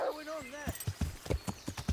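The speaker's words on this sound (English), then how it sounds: "There's so many trees that I can't even gallop because my horse is too fast." Galloping horse hooves in the medieval open-world game Kingdom Come: Deliverance, a quick rhythmic clip-clop of about eight hoofbeats after a short whinny, with someone talking over it.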